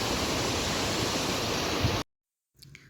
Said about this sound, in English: You can see the beautiful river streams on the way.